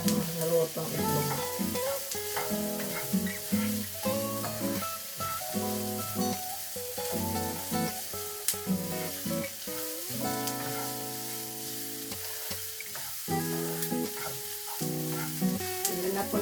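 Scrambled eggs and sliced pickled mustard leaves sizzle and crackle steadily in a hot pan as they are stirred and tossed, with utensil scrapes and clinks over a constant frying hiss and musical tones in the background.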